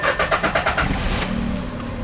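Engine of a cheap used imported car, bought for 100,000 yen and subject to a gear-shift recall, cranking with rhythmic pulses and then settling into a steady idle hum close by.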